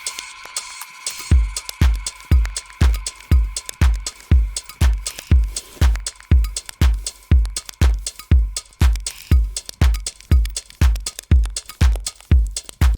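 Programmed drum beat built from crispy layered claps and a booming 808 kick, with lightly randomized swung 16th-note percussion; a steady, loud, regular pattern of sharp hits runs throughout with no talking.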